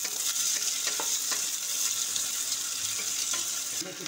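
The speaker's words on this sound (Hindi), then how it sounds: "प्याज को तल रहे हैं थोड़ी देर, उसको चलाते रहें।" Chopped onions fry in hot oil in a pan as they are stirred, a steady close sizzle with occasional scraping clicks of the spoon and no voices.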